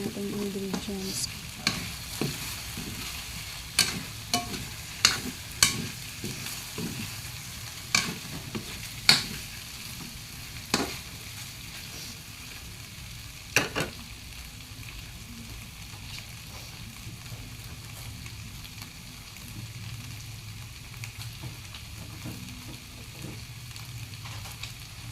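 Chicken frying in oil in a pan sizzles softly and steadily, broken by sharp clicks and scrapes of stirring at irregular intervals, with no voices heard.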